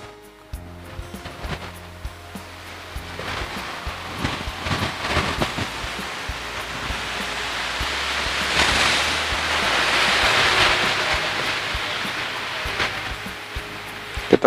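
An LG FV1285S5WS front-loading washing machine with 8.5 kg capacity runs a cotton wash at 1200 spin, its drum giving a continuous rushing, whooshing churn that swells into a steady roar, close and fairly loud with a few knocks.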